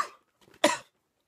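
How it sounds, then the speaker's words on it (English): Two bursts of coughing, a short muffled one followed by a louder, harsher single cough, close to the microphone with no talk. "I'm trying to hold in all my coughs."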